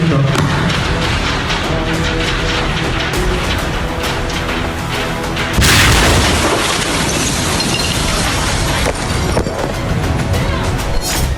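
A massive explosion in Beirut, Lebanon rumbles loud and sustained for over eleven seconds, a dense continuous roar with a sudden sharper surge about halfway through.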